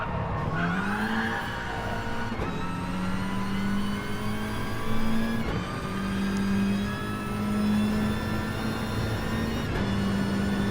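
Volkswagen touring car in an online racing video game at Monza, its engine holding a steady loud mid-pitched drone with brief dips at gear changes, close and continuous throughout.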